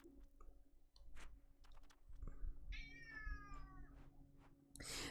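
A pet cat lets out one long, wavering meow at close range amid quiet room noise, scattered light clicks and a faint steady hum.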